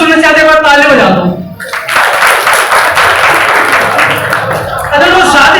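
An audience claps steadily through a spiritual talk, a dense sustained round of applause with a voice speaking over it at the start and end.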